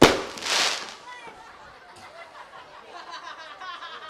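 Firecrackers set off during a Javanese Srimulat-style comedy stage show, a loud sharp burst at the start followed by a second crackling pop, then fading crackle under lively voices and chatter.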